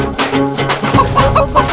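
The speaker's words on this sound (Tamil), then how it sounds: "என்னது கோழி பறந்துருச்சா" A chicken clucks loudly and close by in a few quick, choppy calls, with no voices over it.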